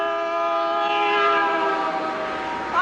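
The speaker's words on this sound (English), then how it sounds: "The only thing that does work is this lousy horn." A faulty vehicle's horn sounds one long, steady, loud blast that holds for nearly three seconds with no voices over it.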